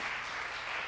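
An audience claps steadily for a band being introduced during a Sunday church service, a dense, even patter of many hands at moderate volume with no voices over it.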